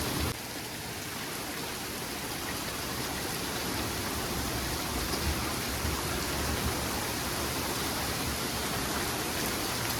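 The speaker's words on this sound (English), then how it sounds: "Lightning and downpour, I think," Heavy rain downpour during a thunderstorm, a dense unbroken roar of water hitting surfaces, loud and constant throughout with no talk over it.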